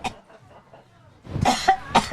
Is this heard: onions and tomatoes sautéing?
no